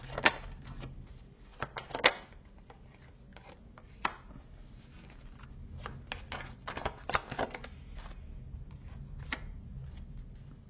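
Tarot cards being shuffled and drawn, quiet close-up flicks and sharp slaps of card stock in irregular bursts with soft rustling between, no talk.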